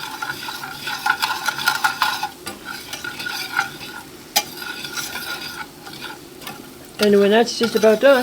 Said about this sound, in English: Mostly I'm trying to cook the onion, or at least soften the onion.